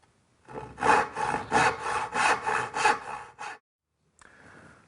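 A hand saw rips through a scrap of cherry wood in close, rhythmic strokes, about eight rasping passes in quick succession, followed by silence and a faint brief rustle.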